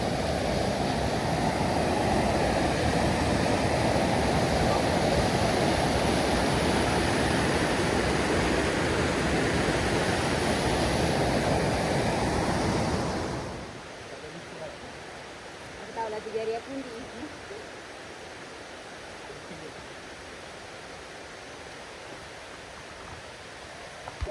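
The Chiling River in Kuala Kubu Bharu, Selangor, Malaysia, rushing loudly as a dense broadband roar for about half the clip. The sound then drops to a quieter flowing hiss, with faint voices briefly heard.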